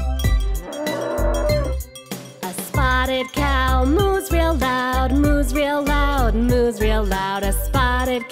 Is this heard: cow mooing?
yes